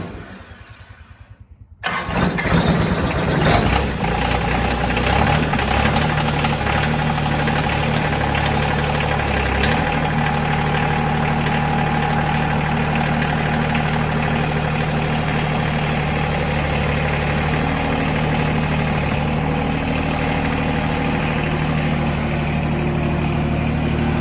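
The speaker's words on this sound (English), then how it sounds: "Cold start, 20 degrees." A car engine cranks and catches on a cold start at 20 degrees, then settles into a loud, steady idle with a constant low rumble that carries on alone.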